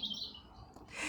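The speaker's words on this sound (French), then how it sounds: "c'est magnifique d'entendre ce bel oiseau." A single bird chirps in a garden, a bright high tweet at the start over soft outdoor background noise, faint and brief, with no voices.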